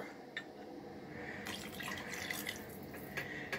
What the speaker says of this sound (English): I'm also going to take my water here and I'm going to run it through this garlic jar